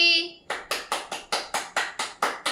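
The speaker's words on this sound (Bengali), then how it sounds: "হাততালি" About nine sharp hand claps follow a brief sung note, evenly spaced at a brisk, steady rhythm, close and clear.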